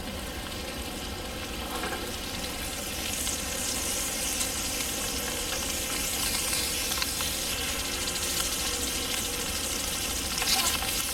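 Butter melting in a hot pan with eggs gives a dense, steady frying sizzle that holds evenly throughout, close and fairly loud, with no voices over it.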